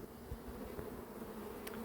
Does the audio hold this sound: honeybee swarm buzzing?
yes